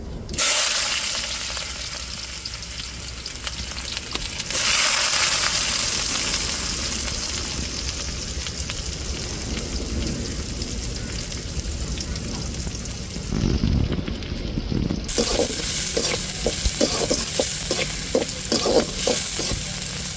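Mustard seeds and small shallots fry in a kadai with a dense, continuous crackling sizzle, growing busier and more spattering toward the end.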